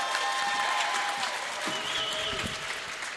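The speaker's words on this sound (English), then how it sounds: "Big round of applause, Kate Fox!" Applause welcoming a poet to the stage at a Christmas BettaKultcha event, a steady, moderately quiet patter of many hands clapping with a few faint whoops above it.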